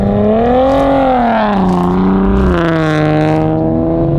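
A loud Nissan VQ-engined car with an aftermarket exhaust revs up and down, its throaty pitch climbing and falling in smooth sweeps, close by with no talking.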